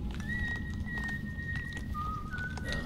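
A game character whistles a tune in Dishonored, a thin steady melodic line of sustained notes that shifts pitch partway through, over a dense low rumble of ambient game background.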